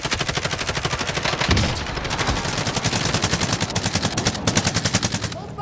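Rapid, evenly spaced gunfire rattles continuously from a rifle in a video game, loud and close, with a short lull before the bursts resume.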